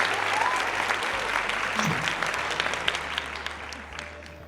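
Applause sound effect dropped into a podcast conversation, a steady burst of crowd clapping that carries on for several seconds at moderate volume.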